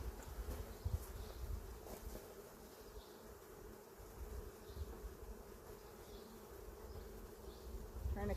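Honey bees drone around an open hive as honey supers are added, a steady, soft, continuous hum with no voices.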